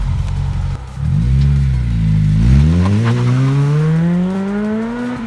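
A Honda Civic Type R EP3 fitted with a Japspeed cat-back exhaust starts up close by, settling from a deep idle into a rising, steady rev with a strong, raspy exhaust note and no talk.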